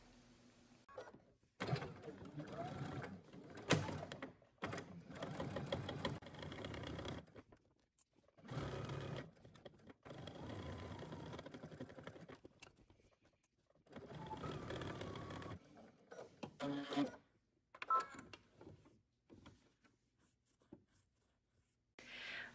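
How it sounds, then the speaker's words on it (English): A sewing machine stitches in the ditch along the seam joining a skirt to its waistband, running in several bursts of steady mechanical whirring separated by short pauses, close and fairly loud. "I'm going to go ahead to my machine and I'm going to stitch in the ditch"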